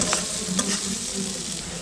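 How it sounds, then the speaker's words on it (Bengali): Potatoes and cabbage fry in a pan with a steady close sizzle, and a spatula scrapes and stirs them in short strokes. There is no talking. "আলুটা ভাজা হয়ে গেছে, এখন আমি কপিগুলো দিয়ে দেবো।"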